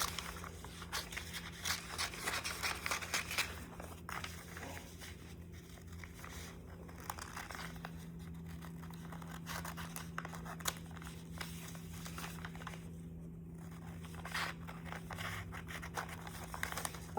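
Scissors cutting out a paper sewing pattern, with steady snipping and crinkling of the paper close by, continuing unevenly throughout with short pauses and no talking.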